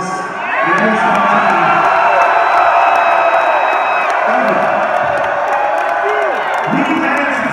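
A large concert crowd at a sold-out hip-hop show at the Tabernacle in Atlanta cheers loudly, with whoops and shouts rising into a continuous roar that carries on throughout.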